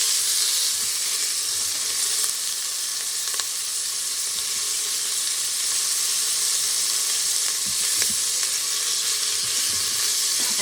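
Meat browning in a pan for a Southern supper, a tough cut seared without cooking through, gives a steady, loud sizzle and hiss that runs unbroken throughout, with faint stirring clicks and no talk.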